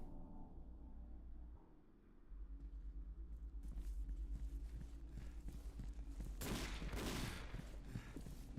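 Enemy gunfire in the horror game Condemned, a quick run of shots over a steady low rumble, with a sharper, louder burst of fire near the end.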